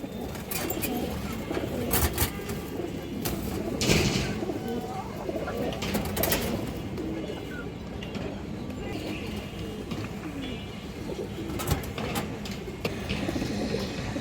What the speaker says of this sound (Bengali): এই যে মাদিটা দেখেন মাসাল্লাহ খুবই সুন্দর একটা মাদি কবুতর